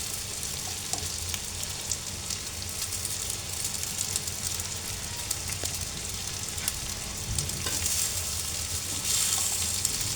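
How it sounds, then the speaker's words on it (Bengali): Leftover pilaf is stir-fried in a small kadai, sizzling and crackling steadily close up for the whole stretch, with faint scraping of stirring and no talk. "এই তো আমি বেঁচে যাওয়া পোলাওটা এখন দিয়ে দেব সুন্দর করে।"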